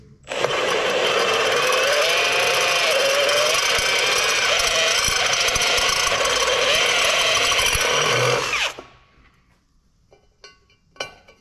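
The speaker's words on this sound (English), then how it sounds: "I'm gonna use a unibit." A power drill fitted with a unibit step bit bores steadily through metal for about eight seconds, a loud close whine with a grinding edge, then stops abruptly, leaving faint handling clicks.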